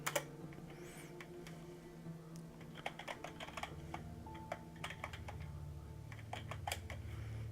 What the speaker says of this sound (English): Then we're going to type help M82 4.